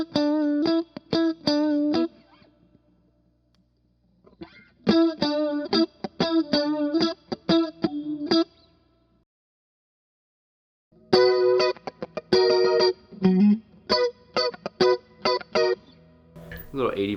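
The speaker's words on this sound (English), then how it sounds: "Then I go to my Walrus Audio Julia, which is a chorus vibrato." A guitar plays short chordal phrases through a Walrus Audio Julia chorus vibrato pedal on a chorus setting, the strums shimmering and warbling in bursts separated by pauses.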